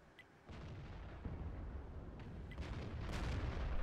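A tank cannon fires in World of Tanks as a deep, muffled boom, followed by a rumbling rise and a second sharp blast near the end, faint and distant with no talk.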